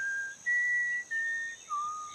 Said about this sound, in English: Ooh, I wish I knew how to whistle